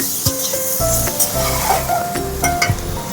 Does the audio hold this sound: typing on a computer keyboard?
no